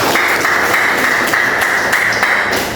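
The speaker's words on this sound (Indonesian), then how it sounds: "tepuk tangan semuanya." A classroom of students clapping their hands together in steady, sustained applause that keeps up at full level from start to finish, with no speech over it.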